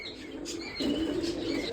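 Domestic pigeons at an Izmir pigeon keeper's loft coo softly and continuously, a low murmuring purr with faint chirps and a brief wing flutter above it.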